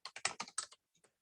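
Rapid keystrokes on a computer keyboard with an English layout, about six quick close taps in a burst followed by two fainter isolated presses, heard alone without talk.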